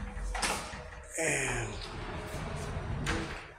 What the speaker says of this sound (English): Wardrobe sliding.